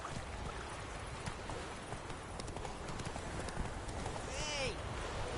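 Horse hooves gallop in The Witcher 3 video game, a fast, steady clip-clop over a constant rushing background, with a voice calling out briefly near the end.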